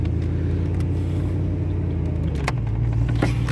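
Ford Mustang on the road with steady low engine and tyre rumble, a brief louder surge near the middle as it brakes hard, then continued driving noise with no talk.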